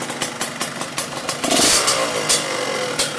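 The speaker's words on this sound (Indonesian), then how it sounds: "suara mesinnya adem banget ya bosku jadi emang enak banget suara mesinnya" A 1996 Yamaha RX-King motorcycle engine runs at a close, steady idle with sharp exhaust pops, then swells into a loud rev partway through before settling back to a rapid, rattly idle.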